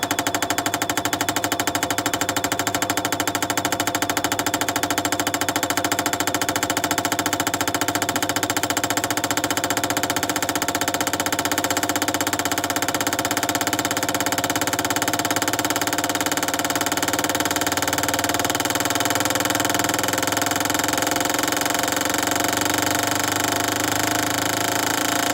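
Petrol fuel injectors run on a cleaning test bench during an acceleration test, making a continuous loud, dense buzzing drone with rapid mechanical clicking. It holds steady and unbroken throughout, with no voices.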